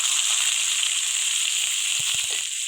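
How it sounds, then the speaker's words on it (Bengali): Onion paste with bay leaf frying in a pan, a steady close hiss of sizzling oil with a few soft clicks near the end, alone without talk. "আমি তেজপাতা দিয়ে দেবো পেঁয়াজ বাটা"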